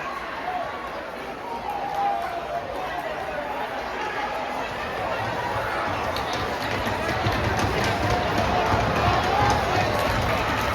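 Spectators at a Canal Cup high school hockey game between Sandwich and Bourne cheer loudly after Bourne's first goal, the noisy crowd swelling gradually into a thick, continuous roar of voices and hubbub.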